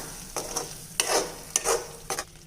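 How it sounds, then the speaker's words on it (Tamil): A spoon stirs coriander leaf gravy with kasuri methi in a pan, making four distinct scraping strokes close by over a faint, steady sizzle. "ஃபைனலாக இப்போது நல்லா கலந்து விட்டுடலாம்"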